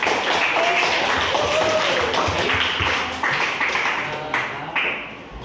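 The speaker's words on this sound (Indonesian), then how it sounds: "Kita kasih tepuk tangan." A classroom of students clapping hands together during a group discussion lesson, a dense, steady patter of many hands that thins and becomes more ragged toward the end, with no talk over it.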